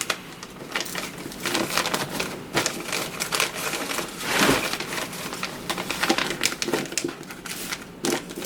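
Wrapping paper rustles, crinkles and crumples almost continuously while tape is handled during gift wrapping, with dense crackling close by and no voices.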